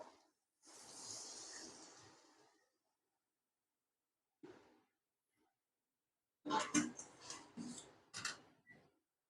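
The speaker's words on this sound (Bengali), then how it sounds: "এখন গরম জলটা দিয়ে দেবো" Hot water poured into a frying pan of mustard paste masala for okra, giving a loud hissing sizzle that fades, a short second hiss, then a burst of bubbling spatter, all near with no talk.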